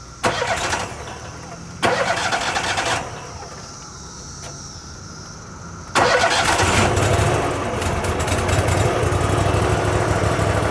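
An EH Wachs unit's motor cranks in short bursts, then catches and settles into a steady, close, loud idle at about 1200 RPM.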